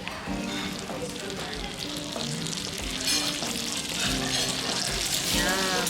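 Hot tuna sisig sizzles loudly and steadily as calamansi is mixed in, with stirring scrapes and clinks running through the continuous frying hiss; a few voices speak faintly underneath.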